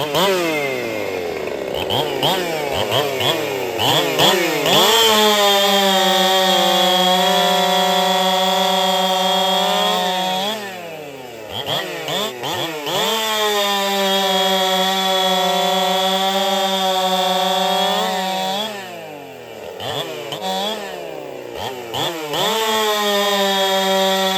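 A chainsaw with a freshly sharpened chain cuts through hardwood, loud and close, its engine revving high and steady through three long cuts with brief idle dips between them, and no one speaking.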